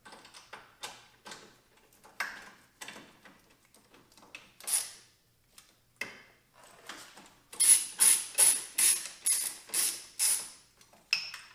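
Ratchet tightening engine mount bolts on a 2000–2002 Audi S4 during engine installation, a string of short clicking bursts, sparse at first then quick, loud strokes close by.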